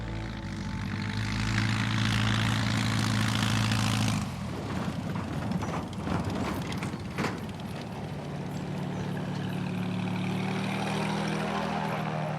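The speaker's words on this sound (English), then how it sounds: "The day's first touchdown is in Vinyl Haven, where there is only a dirt landing strip in the forest." Small propeller plane touching down on a dirt landing strip in a forest on Vinalhaven island, engine droning loud and steady at first, then a sudden shift into rougher rumbling and rattling as it rolls out, settling back into a steady engine hum.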